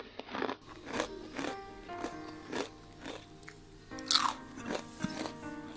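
Crisp, brittle crunching of a homemade pakkavada snack being bitten and chewed, loud and close, with repeated sharp bites and crackly chews in an irregular rhythm and no talking.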